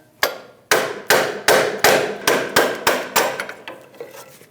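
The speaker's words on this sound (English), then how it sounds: "Using a hammer with a pry bar, we're going to loosen our tensioner." About ten sharp metal-on-metal hammer blows on a pry bar, loosening a corroded AC belt tensioner on a 2001-2006 Chevrolet Silverado 2500 HD 8.1L V8, in a steady rhythm, close and loud, each ringing briefly before the next strike.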